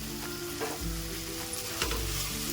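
Steady sizzling of a curry in a hot pan as chili powder and garam masala are stirred in, with soft scraping strokes of the spoon over a constant frying hiss and low hum.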